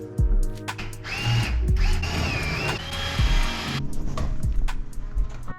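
A power drill drives long screws into a metal strip, with several whining bursts of varying pitch separated by brief pauses. Clunks and handling knocks fall between the bursts, all close and loud.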